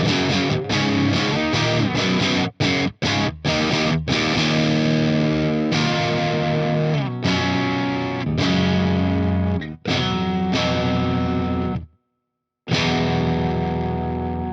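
Electric guitar with a hot Telecaster pickup played through a Wharfedale amp, a loud, thick distorted tone in chugging chords and riffs, with brief stops and one short silence near the end.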